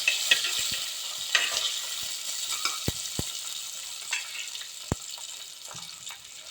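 Washed rice frying in hot coconut oil in a clay pot, a continuous close sizzle broken by sharp pops and crackles as grains burst, with occasional stirring scrapes and no talking.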